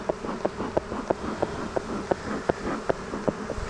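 Honeybees buzzing around an open beehive during an inspection, a steady insect drone close by with short, sharp clicks and knocks recurring about every third of a second.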